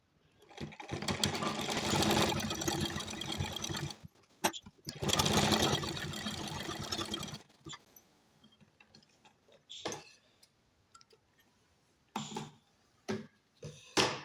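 A sewing machine stitches a kurti in two long steady bursts of rapid, close clattering, then stops, followed by a few short, sharper clicks and handling knocks.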